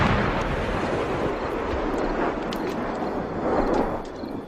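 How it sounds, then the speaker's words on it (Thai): Explosion sound effect in a Thai audio drama: a heavy roaring blast with rumbling, debris-like texture that swells and holds loud for several seconds before easing off, with no voices over it. "เสียงระเบิดก็ดังสะเทือนเรือนลั่นขึ้นมาติดๆ"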